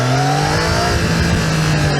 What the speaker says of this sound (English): what is not shaky is those 3 cylinders accelerating